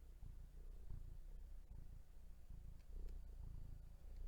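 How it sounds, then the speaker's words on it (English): A pet cat purring while curled up comfortably, a soft, low, continuous rumble with a steady breathing rhythm, faint and close with no talk over it. "And I can hear her purring."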